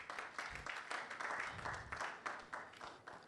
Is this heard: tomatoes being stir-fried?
no